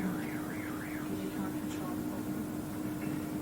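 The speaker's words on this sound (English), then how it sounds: "I might have just heard that car alarm" A car alarm warbles in a rising and falling siren pattern, loud at first and then fading under a steady hum and background noise.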